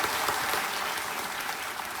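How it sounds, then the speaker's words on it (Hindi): Studio audience applause on a Hindi TV quiz show set, a steady dense wash of clapping hands filling the room, loud and even throughout with no voices over it. "तालियों के साथ आपका स्वागत।"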